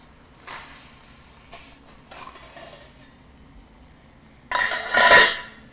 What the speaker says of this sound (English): Let me stir this really quick with a spoon.